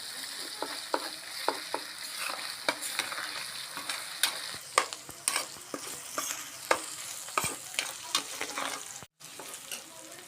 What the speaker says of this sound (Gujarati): આદુને આપણે તેલમાં ફ્રાય કરી લઈશું